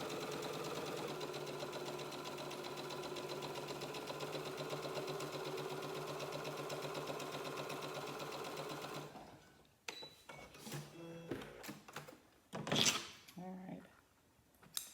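A sewing machine runs steadily for about nine seconds while chain piecing quilt fabric, a close rapid mechanical whir, then stops and gives way to quieter handling clicks and rustles.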